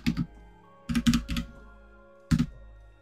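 Short bursts of keystrokes on a computer keyboard as a git command is typed, three quick clusters of close, soft clicks separated by pauses in a quiet room.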